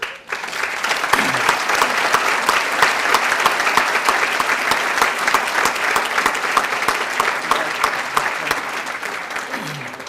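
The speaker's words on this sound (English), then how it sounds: "Your applause, please, for George Dawson." A large crowd at the Cornucopia 2015 awards ceremony gives a sustained, loud round of applause for an Education Award recipient, an even wash of clapping that barely fades.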